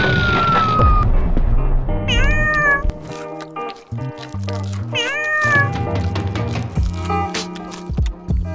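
Pet cats meowing loudly and repeatedly at close range, with rising, wavering cries overlapping busy background noise and no one talking.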